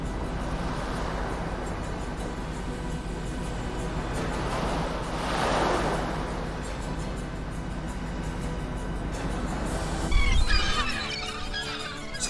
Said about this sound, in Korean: 동해안의 파도가 정겹게 다가옵니다